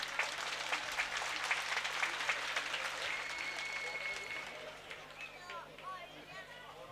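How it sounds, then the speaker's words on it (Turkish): A crowd at a Turkish oil-wrestling final in Kavaklıdere gives the head wrestlers a long round of clapping, dense at first and tapering off amid outdoor chatter and an announcer's voice, with a brief whistle. "Baş pehlivanlarımıza şöyle kocaman bir moral alkışı istiyoruz."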